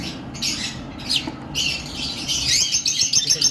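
Parblue lovebirds in a breeding box at a bird farm give sharp, close squawks and chirps in quick irregular bursts.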